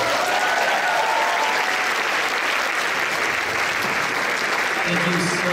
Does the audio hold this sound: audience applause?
yes